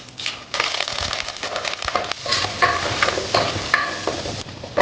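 Tempering seeds, a couple of dried red chilies, turmeric, asafoetida and curry leaves hit hot oil for sambar, giving a dense crackling sizzle with quick popping bursts, close and fairly loud throughout.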